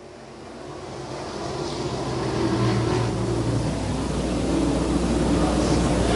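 Super stock race cars roar through a turn, a dense, swelling engine drone that builds and holds steady at a distance.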